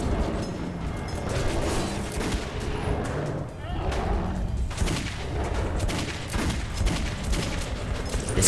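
Gunfire in Metro 2033 Redux, a dense run of shots and bursts that keeps going throughout, loud and close, mixed with rumbling game effects and muffled voices.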